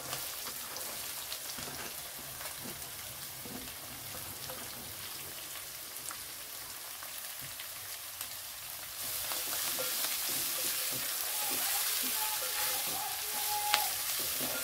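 Five finely chopped onions dropped into a hot pan for green-chilli chana usal, a steady close sizzle that swells louder and brighter partway through, with faint stirring clicks.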